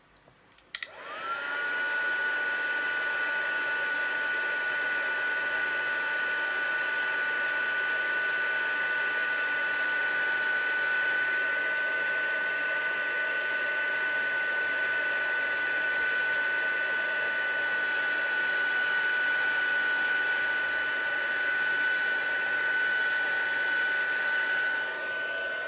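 A heat tool for embossing blows hot air onto stamped marker ink on a Stampin' Up! Stamparatus, a steady loud whirring hiss with a fixed whine that starts abruptly and runs unbroken, close and alone.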